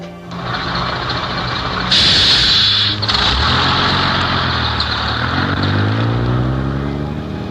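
Bus ride sound effect from a 1974 CBS Radio Mystery Theater drama: a loud, steady engine rumble, a sharp air-brake hiss near two seconds, then the engine pulling away with rising, shifting tones.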